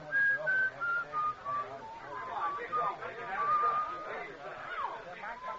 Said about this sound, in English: I'd been hearing that whistling right along and didn't notice it.